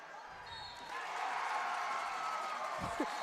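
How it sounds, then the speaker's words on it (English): A home crowd in a high school wrestling gym at a state dual team meet swells into a loud, sustained roar, with distant cheering and a broadcast voice faintly underneath, plus a few thumps from the mat. "The roar of the Jessup crowd"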